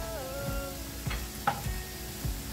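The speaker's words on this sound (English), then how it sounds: "We have to add the cubed carrots and potatoes. Stir again" Cubed carrots and potatoes sizzle in a pan as a utensil scrapes and taps through them in short repeated strokes, close and fairly quiet, with no talking.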